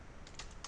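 Brief, faint tapping of a computer keyboard as someone types into a browser, a few quick keystrokes heard close with no voices.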